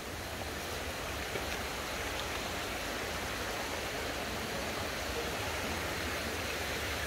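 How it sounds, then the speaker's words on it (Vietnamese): A fast-flowing, fresh spring stream at Buôn Đôn, Vietnam, makes a dense, constant roar of rushing water close by, heard alone without talk. "đây là suối nguồn tươi mát nha cả nhà"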